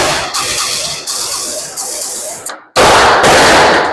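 A Zastava AK-47 rifle fires at an outdoor range, shots coming in loud, close bursts that each ring out briefly. There is a short silent gap, then an even louder, sustained run of fire.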